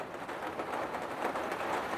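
Steady rain falls over an outdoor vegetable garden, a continuous soft broadband hiss of drops on surfaces with no let-up and no voices.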